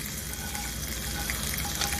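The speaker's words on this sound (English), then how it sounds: "at this point, I'm going to add my bacon right back in" Bacon sizzling and crackling steadily in a pan with Brussels sprouts and pasta, a constant close frying hiss with no talk.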